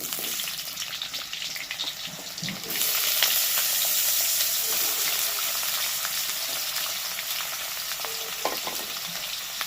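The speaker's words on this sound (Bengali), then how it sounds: "এবার ওই তেলের মধ্যে দিয়ে দেবো আলু, লম্বা লম্বা করে কাটা আলু" Long strips of potato hiss and sizzle in hot oil, a faint sputter swelling into a loud, steady frying roar that holds to the end.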